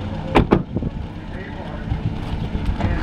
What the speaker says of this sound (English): Parade vehicles coming down the street on Main Street.